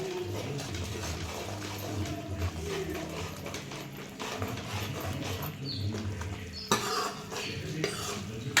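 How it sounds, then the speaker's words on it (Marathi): Homemade masala being sautéed in a pan for a Maharashtrian village-style tarri, soft scraping and clinking of a spoon against the pan over a faint background sizzle, with one sharper clatter near the end. "घरगुती ताजा ताजा मस्त असा मसाला एक चमचा टाकला चांगला परतून घ्यायचा"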